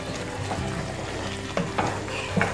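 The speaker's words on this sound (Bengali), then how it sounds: "ভালো মতো আমি ভেজে নিচ্ছি" Masala with one cardamom pod and a halved bay leaf fries in oil for a salmon fish korma, a steady close sizzle with a few spoon scrapes and knocks toward the end.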